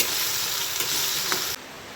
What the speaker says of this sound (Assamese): আৰু এতিয়া মই ইয়াত অকমান নিমখ দি দিছো আৰু এনেকৈ অলপ দেৰি লৰাই ভাজি লম